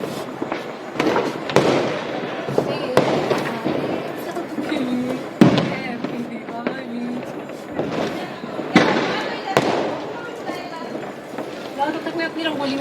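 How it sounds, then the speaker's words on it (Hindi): Diwali firecrackers bursting nearby amid a family celebration: repeated sharp pops and bangs scattered irregularly over constant crowd chatter and voices. "यहाँ पर तो पटाखे भी फोड़ने लग गए हैं"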